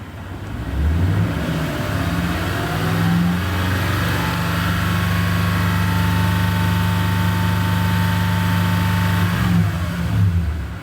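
A car engine at a steady raised idle climbs in revs and holds a higher steady drone for several seconds before dropping back, close and clear with no talking.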